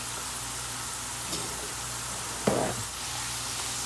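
Homemade Nigerian plantain chips fry in hot oil with a steady, close hiss, and a brief scraping stir briefly cuts through the sizzle partway in.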